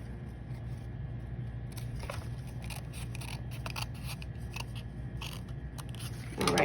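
Scissors snip through paper for a Lunar New Year lantern, a run of quick crisp cuts close by over a faint low hum, with a louder rustle at the end.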